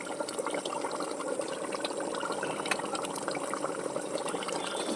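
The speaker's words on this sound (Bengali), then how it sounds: "জাস্ট তিন মিনিট ফুটিয়ে নিচ্ছি" A soft, steady bubbling of chicken curry simmering in a pot, faint and continuous with small pops throughout.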